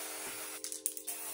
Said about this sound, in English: Now I'm gonna spray some lace tint on this wig.